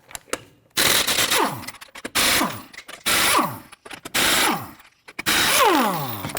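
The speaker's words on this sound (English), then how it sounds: "Using a 21mm socket, go ahead and loosen and remove your lug nuts." A power impact tool with a 21mm socket removes lug nuts from a 2011-2015 Kia Sorento wheel, firing five loud, close rattling bursts, each ending as the motor pitch winds down, separated by brief pauses.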